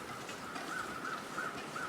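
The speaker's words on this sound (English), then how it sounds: "Oh, there's actually some crows." Crows caw in The Long Dark video game: four evenly spaced, moderately loud caws ring out over a steady bed of windy outdoor ambience.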